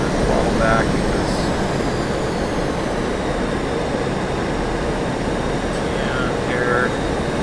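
Steady roar of the F-5E jet engine in the DCS World flight simulator, cruising around 15,000 feet with throttle being eased back, a loud continuous drone with faint whining tones drifting in pitch.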